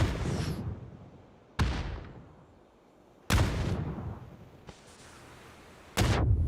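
Grenades burst one after another in a competitive shooter match, four sharp, loud blasts spaced a second or two apart, each dying away into a rumbling tail, with no talk over them.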